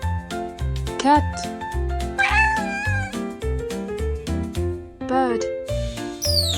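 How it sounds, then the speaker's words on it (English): Cat in a children's animation meowing several times, with drawn-out rising and falling cries over cheerful background music. "Cat."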